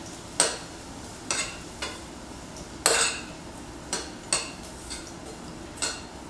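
Breadcrumbs tossed with chorizo in a frying pan give a series of sharp metallic scrapes and clinks, about nine spaced hits over a soft background sizzle.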